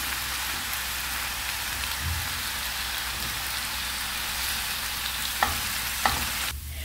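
Onion and spinach frying in a pan, a steady broad sizzle with a soft rain-like hiss throughout, broken near the end by a couple of sharp clicks as the greens are stirred.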